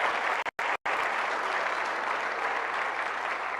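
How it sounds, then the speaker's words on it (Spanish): Sustained, loud applause from a church congregation at a pastors' retreat in Dallas, dense clapping filling the whole stretch with only a momentary break near the start. "si usted cree, dele palmas al Señor, pues"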